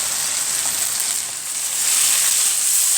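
Tomatoes, about half a kilo, sizzle as they fry in a pan for a trouser-trotter dish, a steady loud hiss filling the scene with no voices.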